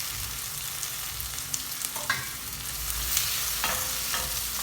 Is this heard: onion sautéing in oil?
yes